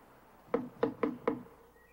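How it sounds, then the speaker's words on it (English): Four crisp knocks on a door or wooden surface come in quick succession, close and clear, standing for a woodpecker in a children's television show, with no talk. "It's a woodpecker."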